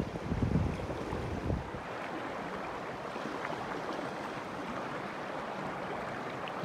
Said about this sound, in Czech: Začíná foukat docela silný vítr